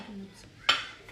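Dishes and cutlery clink while potatoes are served onto small plates at a home dinner of stuffed vegetables, one sharp ceramic clatter standing out among softer kitchen sounds and brief talk.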